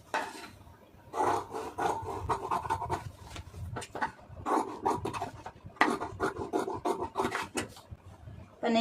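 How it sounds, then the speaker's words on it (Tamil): Scissors cut through blouse fabric along marked lines, giving repeated soft rasping snips and rubs close by, with steady scraping strokes across the stretch and no talking. "நீங்கள் கட் பண்ணும்போதே கரெக்டாக நம்ம உள்ளே மார்க் பண்ணியிருக்கிற அளவுக்கு அதை அப்படியே கட் பண்ணிடுங்க"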